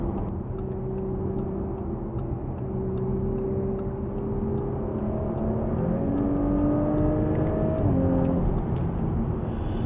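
A 2023 Audi S5 Coupe accelerates at full throttle from inside the cabin, its engine note climbing steadily in pitch through the gears over constant road and wind roar.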